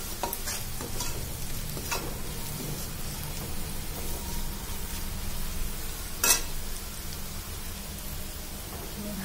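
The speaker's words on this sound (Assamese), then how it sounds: "অকণমান ভাজি দিম" Ginger, garlic, turmeric and cumin powder fry in a hot pan, a close, continuous sizzle with scraping stirring strokes and a sharp clatter near the end.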